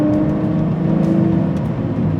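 A 2003 Lamborghini Murciélago with a manual gearbox and a naturally aspirated V12 pulls hard under acceleration, a loud steady drone with a rich low growl that holds throughout without voices.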